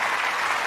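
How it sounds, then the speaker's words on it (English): A short burst of steady clapping from a small group, close and dense, with no talk. "You get the claps for that."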